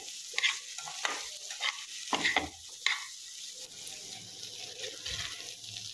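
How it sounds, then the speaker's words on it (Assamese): Crushed jackfruit seeds are stirred and fried in a pan, giving soft scraping stirs and light sizzling in uneven bursts. Occasional louder knocks and clatters sit over a quiet background with no one talking. "তাৰপিছত এইখিনি কঁঠাল গুটিখিনি কেইটামান পিটিকি লৈছোঁ আৰু ইয়াতে দি দিছোঁ মই এইখিনি কৰি লওঁ অকণমান ফ্ৰাই"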